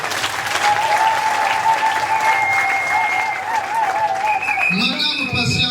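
Loud, dense applause from a crowd at a general assembly meeting, sustained clapping throughout, with voices rising over it toward the end.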